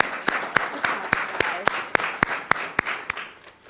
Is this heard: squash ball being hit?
no